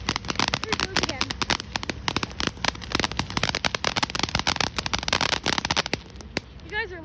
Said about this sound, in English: I can zoom you guys into the fireworks